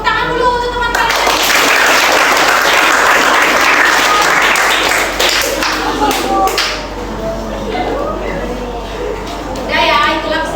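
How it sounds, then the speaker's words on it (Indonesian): A class of middle school students claps steadily and loudly for several seconds in a classroom, the applause then thinning out with children's voices talking over it. "tepuk tangan dulu untuk teman kalian."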